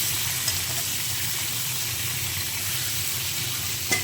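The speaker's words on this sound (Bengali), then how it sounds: "এবার বেগুন দিয়ে দিলাম, এবার একটু নেড়ে নেবো বেগুনটা দিয়ে" Brinjal pieces sizzle and fry in a pan for a fish curry, a steady close hiss with faint scraping as they are stirred, and a sharper clink near the end.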